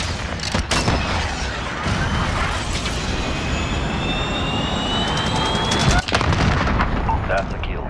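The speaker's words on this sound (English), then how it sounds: "Cruise missile away." Heavy booming explosions and rolling blasts from a cruise missile strike in Call of Duty: Modern Warfare, dense and continuous, with jet-like whooshes overhead and faint voices under the din.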